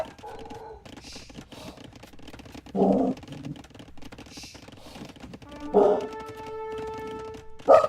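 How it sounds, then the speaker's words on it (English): Short dog barks and growls from a video game, in a few brief bursts heard nearby among soft keyboard and mouse clicks, with a steady game tone sounding underneath. "Look at that clown dog."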